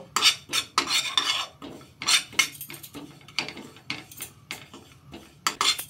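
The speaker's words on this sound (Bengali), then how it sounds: "এইবার আমি একটু শুকনো খোলায় জিরে ভেজে নিচ্ছি" Cumin seeds dry-roasting in a dry pan while a utensil stirs and scrapes, giving a run of close, irregular metallic clinks and scratchy bursts with brief pauses between strokes.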